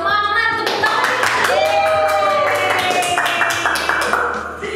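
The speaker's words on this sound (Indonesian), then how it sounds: "tepuk tangan!" Children clapping their hands during an online kids' Sunday service, rapid rhythmic claps over cheerful music with sustained tones, fairly loud, and voices heard alongside.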